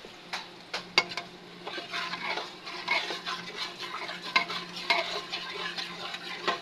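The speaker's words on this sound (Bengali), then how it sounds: "এই মশলাটাকে ভালো করে কষিয়ে নেবো" Spice paste being stirred and fried in a pan, a soft continuous sizzle broken by repeated scraping strokes and clicks of a spoon against the pan, close and fairly quiet.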